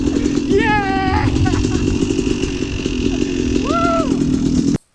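A Yamaha YZ250 dirt bike engine runs loud and close the whole time, a steady two-stroke clatter, while excited voices call out over it.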